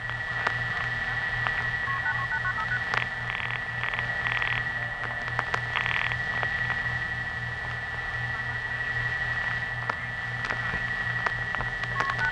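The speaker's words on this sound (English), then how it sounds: "Multi-frequency tones." Bursts of 1970s telephone network multi-frequency signaling tones sound in short sequences over a hissy line with a steady hum and a constant high tone.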